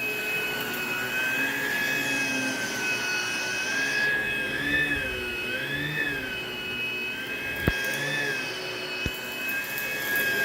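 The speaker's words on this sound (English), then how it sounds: "Protein is a very good, reliable, commercial grade vacuum." A steady, loud whine of a commercial-grade vacuum cleaner running over carpet, with sustained tonal hum that rises and falls slightly as the machine is pushed back and forth, plus a couple of sharp clicks.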